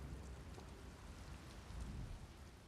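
Rain pours in a thunderstorm in Elder Scrolls Online, a constant faint hiss of drops over a low rolling rumble that swells slightly near the end, with no voices.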